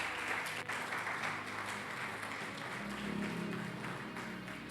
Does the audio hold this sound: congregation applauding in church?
yes